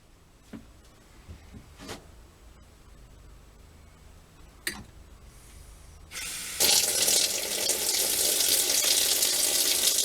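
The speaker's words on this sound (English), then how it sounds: "I'm going to turn on the hot water and see what happens." Hot water tap running through a Geesen GE090T tankless water heater: a few quiet clicks and knocks, then water bursts on and rushes steadily, loud and close, without talking.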